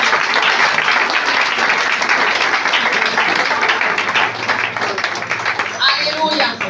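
A church congregation applauding and cheering in worship, loud sustained clapping and voices throughout, thinning slightly near the end as a few sung or spoken notes come through.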